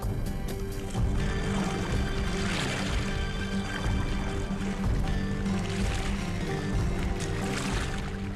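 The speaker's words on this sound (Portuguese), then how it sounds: "Cada remador tocava na água num ângulo diferente." Oars of an ancient Greek trireme rowing through water make a continuous, dense wash of splashing that stays steady from start to end over a low, humming background.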